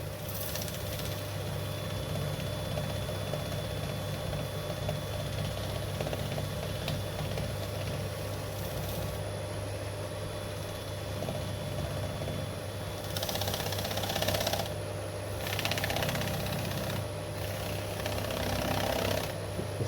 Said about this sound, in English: we're running at about 900 RPM now. Just going to buff off the cut and polish.